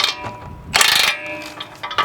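A ratchet wrench with a 21 mm socket works a tie rod nut, giving short bursts of fast clicking pawl sounds, close and loud, with one stronger burst in the middle.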